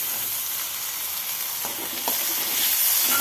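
Finely chopped onions sautéing in a pan for a cauliflower sabzi, a steady close hissing sizzle with a few faint stirring taps near the end.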